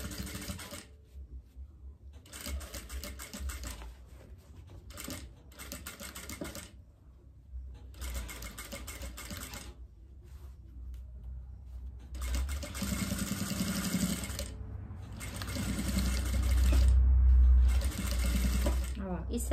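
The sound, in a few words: sewing machine stitching a diaper bag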